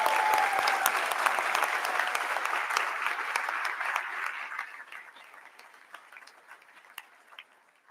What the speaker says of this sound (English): let's all give a round of applause to the dental hygiene class of 2027